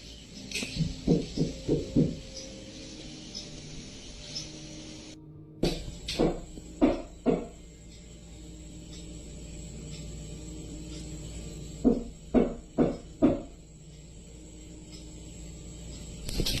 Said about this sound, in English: It's like 5 knocks.